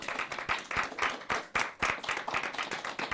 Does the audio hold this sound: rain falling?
no